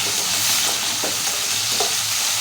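Chopped tomatoes frying in hot oil while a spoon stirs them for ragi upma. A loud, steady sizzle runs throughout, with a few soft scraping strokes of the stirring and no voices.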